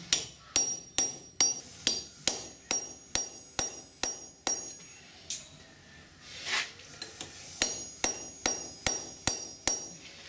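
Rapid, evenly spaced hammer blows ring out on a punch driven through leaf spring steel while an axe is being forged, a loud clanging series that pauses briefly midway, then resumes.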